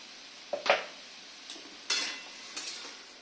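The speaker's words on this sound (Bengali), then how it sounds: "দেখুন ভালো করে নেড়ে চেড়ে নিচ্ছি।" A spoon stirs and scrapes through food in a cooking pot with a few distinct clanks and scrapes against the metal, close and fairly quiet, spaced irregularly over a few seconds.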